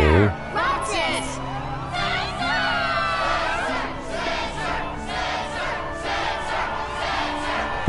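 A crowd of girls in the Kingdom Hearts 2 Final Mix video game shouts and cheers for the struggle champion Setzer, a dense, steady wall of excited voices and whoops lasting throughout.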